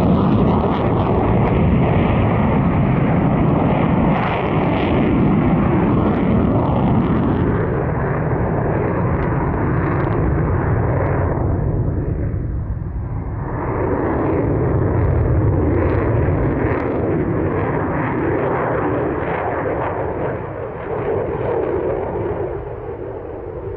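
A Eurofighter Typhoon fighter jet, the 2014 display aircraft in D-Day invasion stripes, roars through an airshow display: a loud, sustained, broadband jet rumble that swells and shifts as it passes, with no voices.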